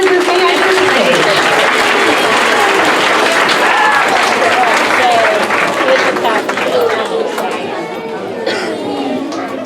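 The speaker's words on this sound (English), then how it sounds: "Give them one more round of applause as they enter the stage" A school awards-ceremony audience applauding: dense, loud clapping from a crowd close by, mixed with cheering and chatter, easing off slightly toward the end.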